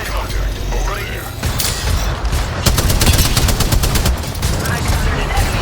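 Gunfire in an Apex Legends match, with rapid bursts of automatic shots in dense clusters, loud and close, over ongoing game sounds and mechanical clicks.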